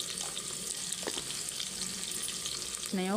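Onions fry with a pinch of salt in a pan for soya chunks pulao, giving a steady, moderate sizzle with faint stirring, and a voice begins speaking right at the end.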